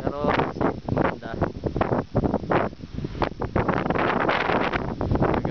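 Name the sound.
strong wind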